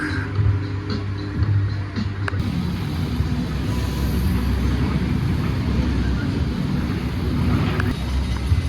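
Continuous low rumble and wind rush from riding Thunderhawk, a 100-year-old wooden roller coaster, steady and loud throughout with no talk.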